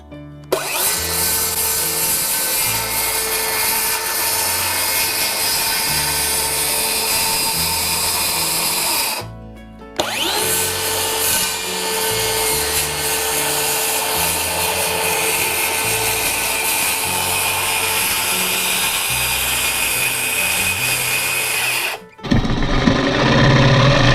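A scroll saw roughing out cuts in pallet wood runs steadily and loud for long stretches, pausing briefly twice with a quick restart, its rapid reciprocating buzz continuous with no talking.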